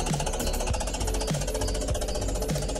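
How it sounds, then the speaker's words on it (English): A restored locomotive traction motor and exhauster from the D1041 'Western Prince' diesel, long left outdoors, running steadily with a loud continuous mechanical rattle and regular low thumps about every half second. "this particular motor and exhauster had spent most of its life outside and just with a little bit of work managed to bring it back to life"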